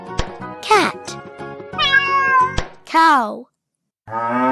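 A series of played animal-sound recordings with cat meows, several sliding tonal cries of varying length separated by short gaps, loud and close, ending after a brief silence with one more sustained meow.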